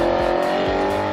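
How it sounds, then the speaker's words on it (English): An Audi R8's V8 engine revs hard nearby, a loud, raspy continuous roar with quick pulsing blips of throttle. "Now, why I'd get a V8 is because it sounds like this."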